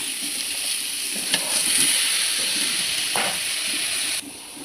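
Chopped onions frying in oil with garam masala, green chili, garlic and ginger, a dense close sizzle and hiss with a few stirring knocks, dropping slightly near the end, no talk.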